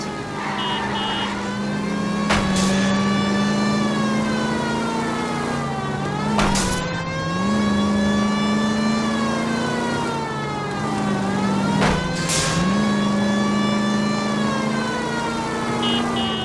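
In the L.A. Noire police chase after a stolen green Kaiser Fraser, a car engine revs and shifts through rising and falling pitches, with a police siren wailing over it.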